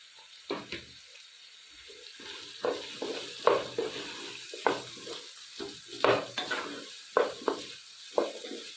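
Sliced onions for a country-style chicken curry sauté in a pan, a quiet background hiss broken by about a dozen spaced scrapes and clatters of a spoon stirring, close up with no speech.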